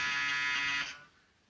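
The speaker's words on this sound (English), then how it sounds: "If that buzzer rings again in this house," A door buzzer in a 1938 film comedy drones loudly and steadily for almost a second, then cuts off and leaves quiet room tone.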